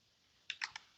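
Keys tapped on a computer keyboard while typing code, a few quiet, separate clicks at an uneven pace, close by and alone against a faint background hiss.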